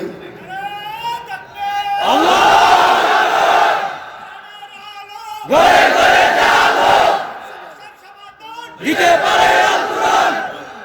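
A large crowd at a religious gathering bellows the takbir in unison, three loud, sustained chanted waves with a lone voice leading between them.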